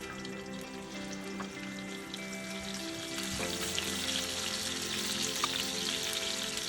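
Short ribs searing in hot olive oil on a stove set to high heat, a steady close sizzle and crackle that grows louder partway through as the meat hits the pan, with scattered pops.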